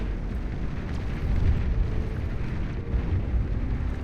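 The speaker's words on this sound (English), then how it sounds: "There's a shockwave firing away again." Shockwave defense weapon firing in the real-time strategy game Beyond All Reason during an 8v8 deathmatch, heard as a continuous loud, rumbling, explosive roar that rolls on steadily throughout.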